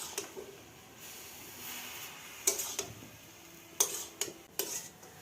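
Susni shak leaves stirred with ginger and garlic in a pan: soft background sizzle with several sharp clinks and scrapes of a utensil against the pan at irregular intervals.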